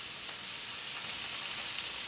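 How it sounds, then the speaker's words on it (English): Chicken sizzles steadily in olive oil in a non-stick pan, a constant bright crackling hiss close up with no talking. "And now you hear the sizzle coming on."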